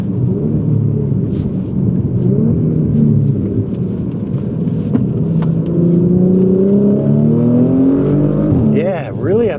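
A tuned Porsche Macan with a 2.9L twin-turbo V6 revs hard through the upper range, its rising engine note climbing steadily and loud, heard from inside the cabin with a brief shift near the end.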